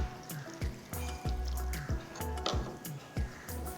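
Water poured into a sambar cooking pot holding vegetables and small onions, with repeated splashing drips and sloshes in uneven bursts, close by and fairly loud.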